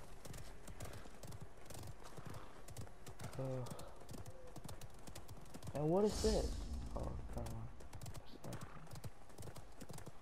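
Hooves clip-clop and a horse whinnies briefly in the Realm Royale video game, set among clicking keys, while a player talks over the steady trotting.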